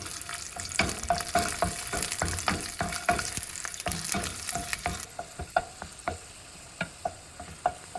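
Garlic fries in a pan for dosa seed powder, giving a steady close sizzle broken by repeated scraping and stirring strokes that grow sparser toward the end, with no talking.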